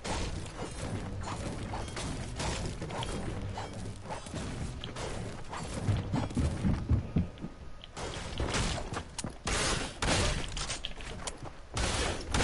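Shotgun and other gunfire in a Fortnite solo match, sharp repeated blasts scattered through a busy, noisy game mix, mid-distance and fairly loud.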